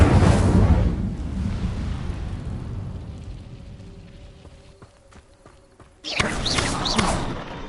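A fire spell cast in the Hogwarts Legacy video game erupts in a loud, deep, whooshing burst that slowly fades, then a second sharp blast flares up near the end.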